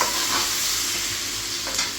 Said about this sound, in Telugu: బాగా ఫ్రై అవ్వాలి.